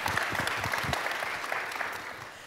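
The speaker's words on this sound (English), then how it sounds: "Can y'all give them a round of applause?" An audience at a foster and adoption information meeting gives a steady round of clapping, fairly close and even throughout, with no talk over it.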